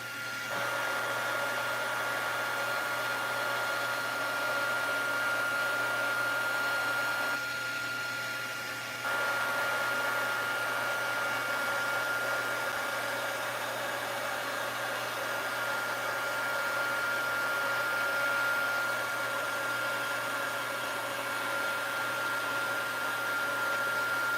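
Heat gun running steadily at close range to melt embossing powder for heat embossing, a continuous blowing hiss that dips briefly once, with no talking.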